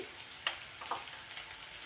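Onion and spices fry quietly in a tempering, a soft, faint sizzle close by with a couple of brief clicks from stirring.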